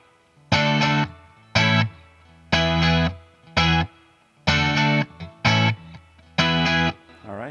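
Electric guitar plays short, even, compressed chord stabs in a steady rhythm, each strum held briefly then cut off, with a smooth, squashed sustain.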